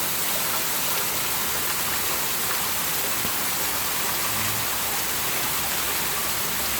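A hard, continuous downpour on a gloomy Florida fall day, loud and even throughout, with a faint low rumble underneath and no talk.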